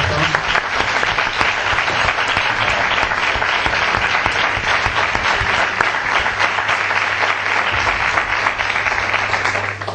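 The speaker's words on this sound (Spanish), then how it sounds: "yo creo que se merece un aplauso" Sustained, dense applause from an audience after a talk, loud and even throughout the whole stretch with no break.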